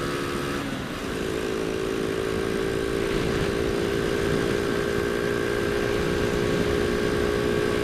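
A small motorcycle engine revs up steadily on a speedometer test ride, a loud, continuous droning whine that climbs in pitch after a brief dip, with no talk.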